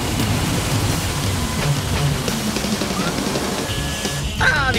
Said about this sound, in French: Turbo canon à eau, action!